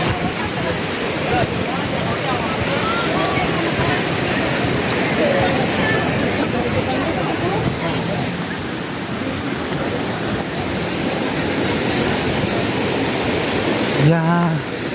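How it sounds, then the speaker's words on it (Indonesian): Fast, strong river current rushing in a steady broadband roar at Cipeundeuy Endah river tubing spot in Majalengka, loud and close, with a voice talking faintly under the water noise. "Ternyata arusnya cukup deras ini"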